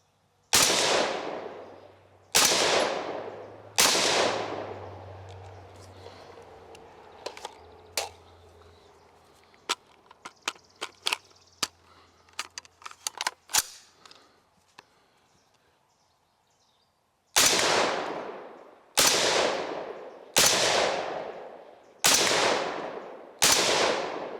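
Kel Tec RDB-C rifle firing at a steel popper target outdoors, a string of loud sharp shots with echoing tails, a pause filled with scattered faint clicks and pings, then a quick steady volley of five more shots.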